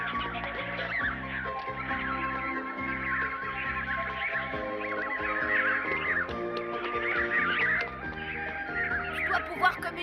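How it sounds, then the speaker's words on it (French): A flock of cartoon vultures and other birds gathered by the thousands around a castle, a dense chorus of caws and squawks layered over a musical score, fairly loud and continuous. "Des oiseaux par milliers."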